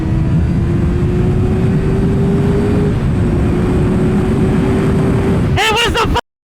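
A motorcycle engine at about 6,000 rpm holds full throttle in a loud, steady, close drone for several seconds, then cuts off abruptly.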